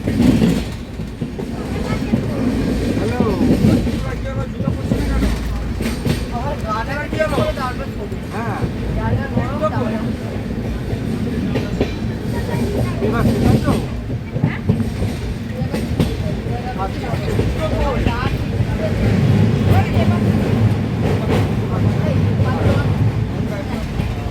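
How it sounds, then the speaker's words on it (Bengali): The Duranta Express train from Sealdah to Puri rumbles along the tracks at night with a steady low roar and faint rhythmic clatter, while people talk nearby over the noise. "ট্রেন ছেড়ে দিয়েছে একদম রাইট টাইমে"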